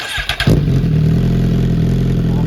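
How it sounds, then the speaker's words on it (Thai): A Suzuki GSX-R1000 L8 sport motorcycle engine fires up after a few short cranking bursts, then settles into a steady, deep, throaty exhaust idle close by. "ขอเจ้าของรถนะครับให้ลองติดเครื่องให้ฟังนะครับ ว่าเสียงท่อ L8 เป็นยังไงบ้างนะครับ"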